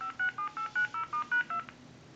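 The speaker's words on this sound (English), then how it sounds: "And we can press the redial button." A rapid sequence of eight or nine short redial keypad tones from a Pottery Barn Grand wall telephone beeps in quick succession, clear and close, then stops.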